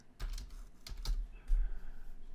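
A few close, crisp keystrokes tap on a computer keyboard in a short irregular burst, with a quiet room behind them.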